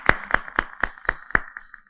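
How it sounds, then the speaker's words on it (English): Several sharp claps in a slow, even rhythm at a keynote session honouring the Chinese government, with about six distinct hits over two seconds. They sound more like one or a few people clapping than a full audience. "Shall we give the Chinese government a round of applause"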